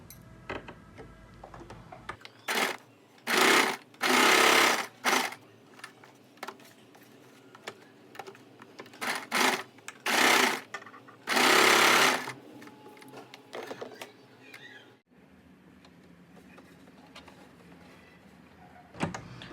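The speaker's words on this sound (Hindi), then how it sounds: "सबसे पहले हम इसमें सिलाई लगा लेते हैं इस तरह से।" A sewing machine stitches a fabric sleeve design for a blouse, running in several loud bursts of fast whirring stitches separated by short pauses, close and alone with no talk.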